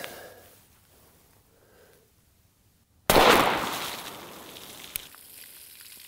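A single sharp gunshot from a Glock 19 9mm pistol fires at about the midpoint, loud and close, its blast ringing out and decaying over a couple of seconds, with a small secondary crack shortly after; quiet outdoor ambience before.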